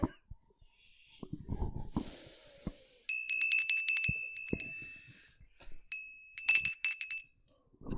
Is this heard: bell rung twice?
yes